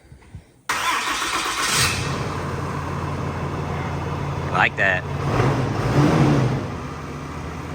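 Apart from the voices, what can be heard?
truck engine starting and revving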